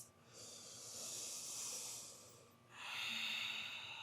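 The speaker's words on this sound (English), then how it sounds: "Breathing in and out through the nose with the quality of oceanic sound, like you're trying to fog up a mirror with your breath" Yogic ocean breath drawn in and out through the nose during a vinyasa flow: a long, soft hissing exhale that fades out, then a second breath swells back at close range, steady and unhurried with no talking.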